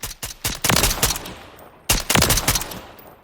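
SR25 rifle fire in Call of Duty Modern Warfare III on a firing range: a burst of sharp shots ringing out in quick succession, a short pause, then another cluster of loud cracking reports, with no talking.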